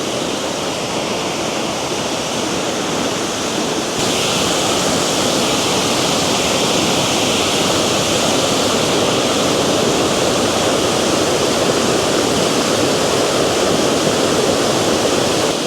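Busra waterfall in Cambodia roars steadily and loudly, a continuous broadband rush of falling water close by with no voices or pauses throughout.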